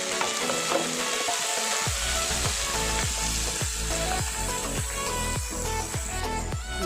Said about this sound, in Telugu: వీటిని కూడా ఫ్రై చేసుకోవాలి కొంచెం ఫ్రై అయ్యాక కట్ చేసుకున్న టమాటా ముక్కలను కూడా వేసుకోవాలి